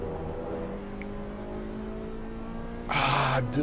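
A race car engine in the video game Assetto Corsa EVO drones steadily at a sustained pitch, then a louder hissing burst breaks in near the end.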